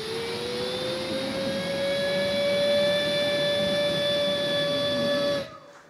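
A human voice mimics a vacuum cleaner with a steady, loud whining drone that rises slightly in pitch. It holds for about five seconds, then cuts off abruptly.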